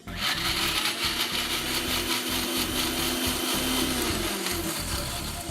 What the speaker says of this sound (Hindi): और करना सिर्फ इतना है कि इसको आपने मिक्सी में पीस लेना है।